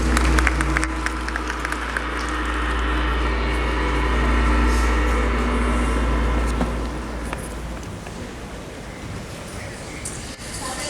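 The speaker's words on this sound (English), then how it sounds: "A round of applause for them, please." Audience applause in a large hall at the African Mining Indaba conference, a broad steady wash of clapping that swells in the middle and tapers off, with a low rumble underneath.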